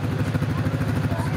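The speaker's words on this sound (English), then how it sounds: "Here's the tractor." A farm tractor engine runs close by with a steady, loud, rhythmic low chugging and clattering throb throughout.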